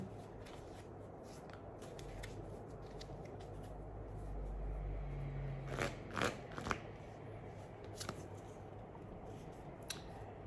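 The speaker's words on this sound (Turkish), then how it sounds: "Sevgili boğalar ikinci kartımızı açalım sizler için." Tarot cards are handled and drawn during a reading, giving soft, quiet shuffling and sliding with a few light taps and flicks near the middle over a faint steady background.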